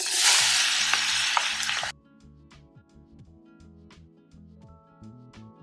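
Red onions hit a hot pan with a loud, hissing sizzle that lasts about two seconds before dropping away, leaving quieter background music playing on its own.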